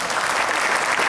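Loud, dense applause from an audience at a university event honoring the rector, a continuous burst of clapping with no voices on top.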